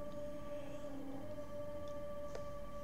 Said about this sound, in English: if you hear whining in the background, it is the refrigerator.